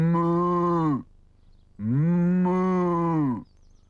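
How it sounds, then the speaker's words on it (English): Two long, loud cow moos rise and fall one after the other with a short pause between them, close and clear, in a 1987 Raggy Dolls cartoon scene with a herd of cows. "It's a herd of cows"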